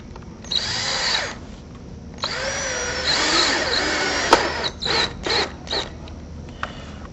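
A power drill drives screws into pre-drilled holes while fitting the top of a window frame to a T-post, in several loud whirring bursts of varying length with short pauses between them.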